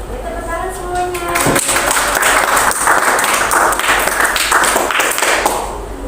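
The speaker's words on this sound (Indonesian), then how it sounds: "Tepuk tangan semuanya." Audience at a clinical and community pharmacy seminar bursts into sustained applause after a quieter opening, dense clapping filling the room for several seconds before easing off.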